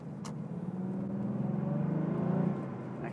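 Porsche 964 flat-six engine idling along slowly in first gear, a low steady burbling drone that swells gently then eases off, heard from close by with no talk.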